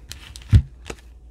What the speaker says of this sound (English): let me shuffle 7 times